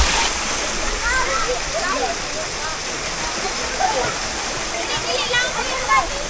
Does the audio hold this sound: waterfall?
yes